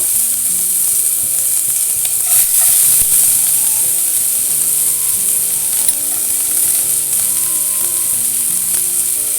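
Finely chopped onions frying in a pan, a loud, dense and continuous sizzle with faint scraping ticks underneath, steady from start to finish.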